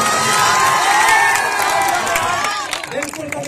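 A crowd at a cricket tournament's closing ceremony cheers and shouts, with children's voices and some clapping, loud and lively before thinning out toward the end.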